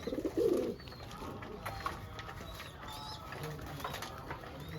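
Soft pigeon coos and murmurs at close range as the pigeons feed on grain, over a low background hum, with a brief louder rustle at the start.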